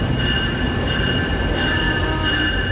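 Steady rumble of a train in motion, heard from inside, with a constant metallic whine from the wheels running on the rails.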